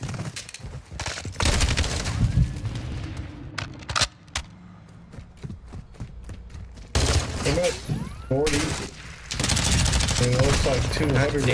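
Rapid bursts of gunfire in an online shooter video game, dense automatic volleys and single shots coming in clusters with quieter gaps between, while a person talks over parts of it.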